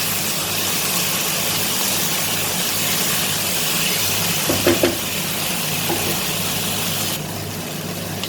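Masala with stone salt fries in a pot with a steady, close hiss that holds throughout, broken by a couple of brief utensil knocks near the middle.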